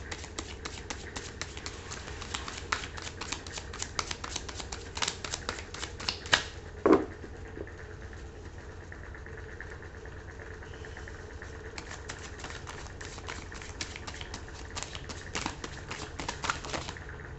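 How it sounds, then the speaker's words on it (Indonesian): A deck of tarot cards being shuffled, giving repeated crisp riffling flutters and soft card slaps in bursts over a low steady background hum, with a brief louder knock near the middle and no speech. "Kita akan shuffle kartunya dan kita akan ambil 4 kartu."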